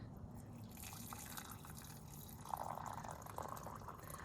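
Hot water from a kettle trickles and drips steadily into a mug holding a tea bag, a close, soft liquid sound that runs alone for about four seconds.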